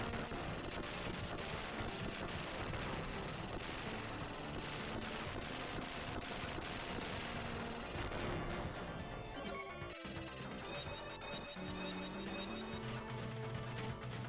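Constant retro 16-bit game weapon fire from the double chaser in Gunstar Heroes on Sega Genesis, rapid repeated blasts and explosion crashes layered densely with game music and effects throughout.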